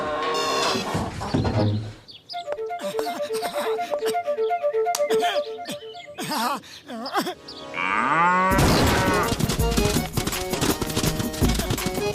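A buffalo lets out loud, drawn-out moos, mixed with hoof clatter, bird calls and other loud sounds, and a person speaks in places.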